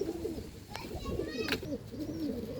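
Pigeons at a pigeon-flying tournament in Pandharpur give low, soft cooing calls through the clip, with a few brief higher chirps and a steady outdoor murmur underneath.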